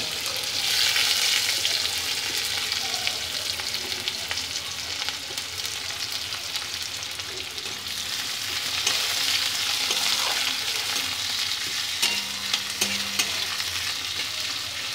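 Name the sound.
onions and whole garam masala frying in oil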